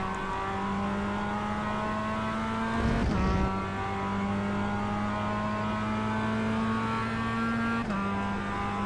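Race car in the iRacing simulator held at a steady, droning engine note with constant high revs, briefly interrupted by a short burst of noise near the middle and a quick gear change near the end, with no talking.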